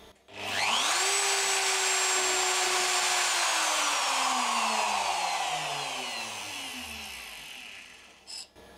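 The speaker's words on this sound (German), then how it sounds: "Das machen wir natürlich auch wieder auf der Fräsmaschine." A milling machine working on an aluminium part for a model work light spins up to a loud, high whine within a second, holds it for several seconds, then slowly winds down, ending with a brief knock.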